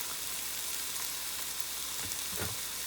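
Spinach sautéing in a pan with garlic and spices gives a soft continuous sizzle, with a couple of brief stirring scrapes near the end, close and alone without speech.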